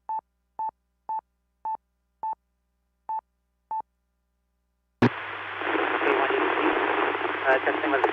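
Handheld ham radio transmission coming back through a repeater: a run of short, evenly spaced tone beeps, then a sudden burst of loud, hissy static carrying the relayed signal for a few seconds.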